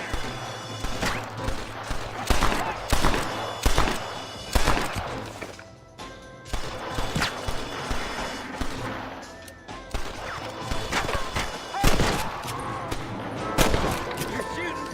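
Gunfire in the video game Red Dead Redemption: sharp, irregular shots crack out repeatedly, some in quick clusters, alongside in-game voices talking.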